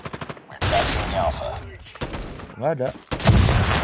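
Bursts of automatic gunfire from the Man-O-War assault rifle in COD Mobile, loud and dense, broken by brief gaps, with a voice talking over part of the shooting.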